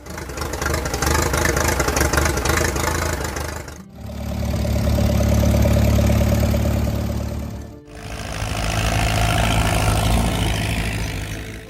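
A 1940s Case SC row-crop tractor engine running, a loud close steady idle with a low throbbing rumble, the tone shifting between three sections as the sound is cut together.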